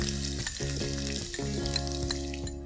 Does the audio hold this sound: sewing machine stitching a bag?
no